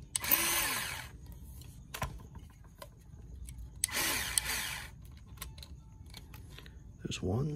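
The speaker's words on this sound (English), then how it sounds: "we use our tool, our electric driver, to remove these bolts." An electric driver backs bolts out of a Sur Ron electric dirt bike, giving two short high whirring bursts separated by quiet, with light metallic clinks, small handling noises and speech in the background.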